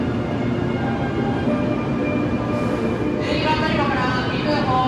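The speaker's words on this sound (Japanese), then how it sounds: "熊本駅に向かうみずほ616号。" The Kyushu Shinkansen Mizuho 616 runs toward Kumamoto Station, heard as a steady, even rumble and whoosh from inside the train with faint tonal sounds layered on top.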